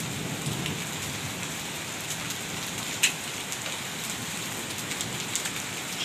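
A heavy downpour mixed with hail falls over a village in hot summer weather as a dense, steady roar of rain, with occasional sharp ticks and one louder crack of stones striking surfaces.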